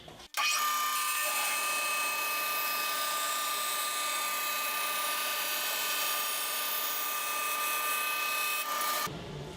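A band saw cutting triangular wooden lining wedges for guitars runs in a steady high whine for about nine seconds, loud and close, starting and stopping abruptly with no talking.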